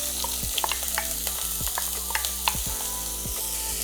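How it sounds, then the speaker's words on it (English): Garlic and onions sauteing in olive oil in a pot over medium-low heat, a steady close sizzle broken by several knocks and scrapes of the spoon against the pot. "We're going to saute this until the onions and the garlic get fragrant."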